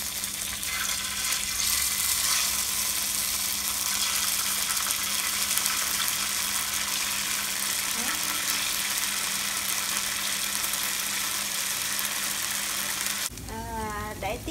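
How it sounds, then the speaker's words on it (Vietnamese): Vietnamese fried flour cake sizzles in a pan with a dense, steady crackling hiss that continues throughout, and a voice speaks briefly near the end. "Rồi bây giờ mình sẽ để vô chảo mình chiên."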